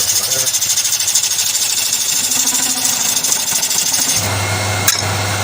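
A wood lathe hollows out a large river bowl with a continuous loud, rattling grind and steady rhythmic chatter from the tool. The pitch shifts near the end, and a voice talks underneath.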